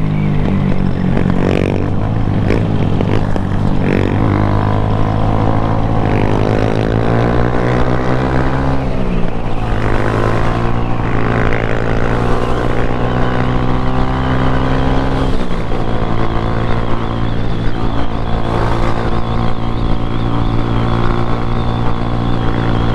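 A 150 motorcycle rides hard on a bumpy highway with its engine wrung out, a loud continuous roar whose pitch climbs and falls through the gears, close up with heavy wind buffeting throughout.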